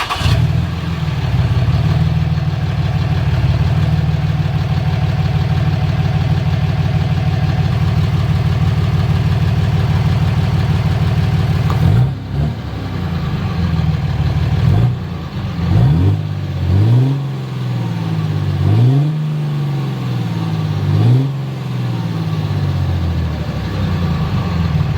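Armoured Dodge Ram 2500 diesel pickup, heard close up: a steady, loud idle rumble for about twelve seconds, then a series of sharp revs rising and falling in repeated surges.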